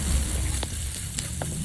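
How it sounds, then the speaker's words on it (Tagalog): Onions sauté in a hot pan for chop suey, a dense steady sizzle with a couple of brief stirring scrapes, close and fairly loud. "pag mainit na, igigisa na natin ang ating sibuyas"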